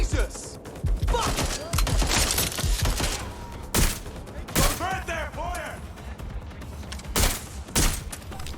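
Gunfire from the Watch Dogs: Legion video game: sharp bursts and single shots fire through the stretch, with louder cracks near the middle and end over a busy game soundscape.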